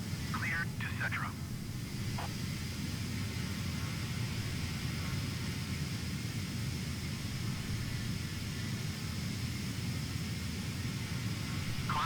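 Low, steady engine rumble of the six-engine Antonov An-225 Mriya cargo plane in Microsoft Flight Simulator, a constant broadband drone throughout with brief faint chirps near the start and end.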